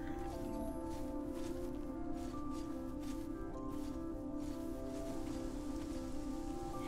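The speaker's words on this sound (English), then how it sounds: "And it's raining again." Steady rain falls in the video game Conan Exiles, a continuous soft hiss of drops on surfaces, fairly quiet, with a low background hum and no talking.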